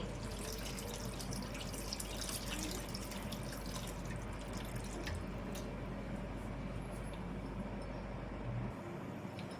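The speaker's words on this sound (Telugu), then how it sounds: "ఇప్పుడు మనకి పులుసు ఎంత కావాలో అంత పోసుకుందామండి." Tamarind broth being poured into a pot of fish curry in a home kitchen, a steady trickling, splashing stream of liquid that runs close and continuously throughout, with no talk over it.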